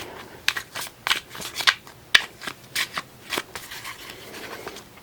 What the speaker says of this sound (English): pull a couple more cards.